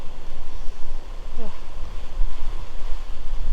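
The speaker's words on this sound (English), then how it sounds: "The worst thing is the wind's swirling around" Strong gusting wind from ex-cyclone Alfred buffets the microphone beside the flooded Brisbane River, a rough, pulsing roar swelling and dropping in uneven surges, with a faint voice briefly under it.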